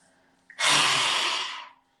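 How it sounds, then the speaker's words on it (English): A single forceful lion's breath exhale in yoga, done with the tongue out: a loud, breathy rush of air that lasts just over a second before fading, close and alone with no talking. "when you exhale, you stick your tongue out and you look up to this point with your eyes"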